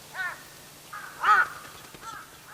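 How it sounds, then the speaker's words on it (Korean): A crow caws three times, harsh and fairly close, the middle call loudest, with quiet pauses between. "죽은 동물을 뜯어먹고 사는 까마귀다."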